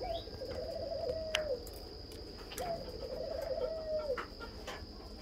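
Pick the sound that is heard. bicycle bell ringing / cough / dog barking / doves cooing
doves cooing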